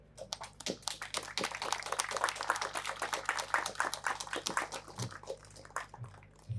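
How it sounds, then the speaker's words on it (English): Sustained applause from a large graduation ceremony audience at a 2021 high school commencement, a dense, steady wash of many hands clapping throughout, with a few faint voices near the end. "please take a moment to clap for your families, teachers, and those you appreciate"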